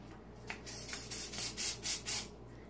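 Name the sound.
hairspray spraying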